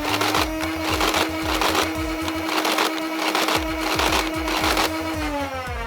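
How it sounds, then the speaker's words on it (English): A Nerf Galactic Commander blaster whirs continuously in three-shot burst mode, a loud motorized drone with repeated mechanical clatter of darts cycling through, steady throughout. "I want to see what the rate of fire is like on the 3-shot burst mode and what the trigger response is like"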